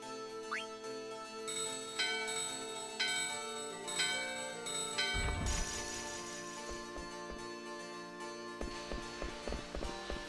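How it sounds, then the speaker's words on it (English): A holy bell rings in the video game Final Fantasy IX: bright, sustained chiming tones layered with high shimmering notes, a low swell midway and a few lighter struck chimes near the end, with no talk. "Can I use a holy bell on this door?"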